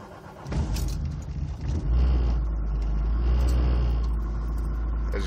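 A 1989 VW Cabriolet engine cranks briefly and fires on the first turn of the key, then settles into a loud, steady low rumble of cold idle up close, with no voices.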